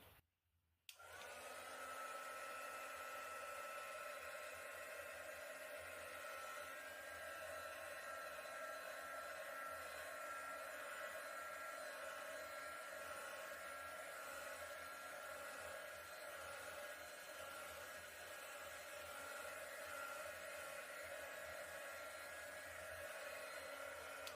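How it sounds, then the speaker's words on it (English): A heat gun blows steadily over an acrylic open cup paint pour, a loud continuous whooshing hum that starts abruptly after a brief pause and runs unbroken to the end. "Just do it one more time with the heat gun."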